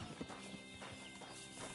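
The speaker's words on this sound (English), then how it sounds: "This horse must have cost a pretty fortune." Horse hooves clip-clop in a medieval game world, a soft, steady walking rhythm at moderate distance, set against a low ambient bed with no talk over it.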